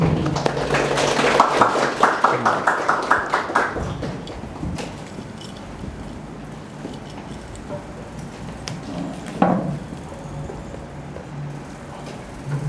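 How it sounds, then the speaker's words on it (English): A small audience at a university Buddhist discussion morning session at Ateneo de Manila claps in a short, dense burst of about four seconds. It then fades into a quiet room with faint rustling. "let's give them both a round of applause"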